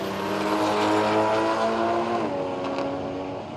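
A drag racing truck roars down the strip, its loud engine note holding steady tones that then drop in pitch as it passes close by and pulls away.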